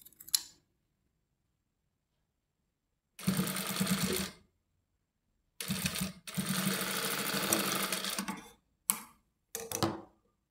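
A sewing machine stitches lace onto the side seam of a kurta in close, loud bursts of rapid whirring, about four runs of a few seconds each with near silence between them.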